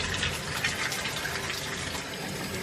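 Warm tap water runs steadily while deep conditioner is rinsed out of freshly dyed red natural hair, a close, continuous gushing splash with no talking.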